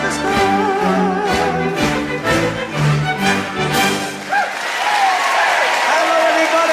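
A band plays a lively tune before an audience bursts into loud, sustained clapping and cheering for the performer, and a voice then comes over the applause.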